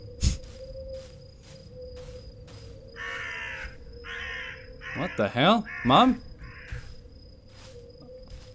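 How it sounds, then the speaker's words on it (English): Crows caw in a horror video game, a cluster of harsh calls rising over a steady eerie ambient drone, while someone talks loudly over them in short exclamations. "It's just some crows."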